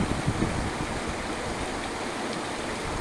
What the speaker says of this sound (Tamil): அருவி குற்றாலத்தில் ஊத்துற மாதிரி ஊற்றுதுங்க.